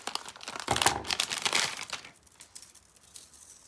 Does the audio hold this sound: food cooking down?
no